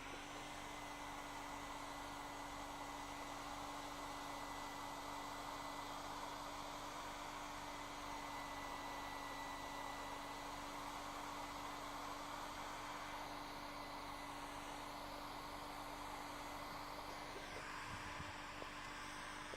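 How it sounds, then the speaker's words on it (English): A hair dryer runs steadily throughout at a constant, moderate level, used to heat a rotten apple, giving a continuous airy whoosh with a low motor hum and no pauses. "this hair dryer is not supposed to hit that high"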